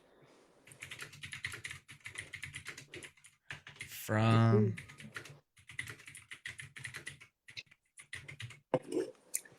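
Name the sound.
typing on a computer keyboard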